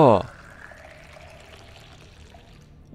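Drinking filtered water in the underwater survival game Subnautica opens with a short, bright gurgling pour, then fades to a quiet electronic hum with faint chiming tones.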